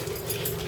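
A dog gives a brief, faint whimper, short and soft against quiet room noise.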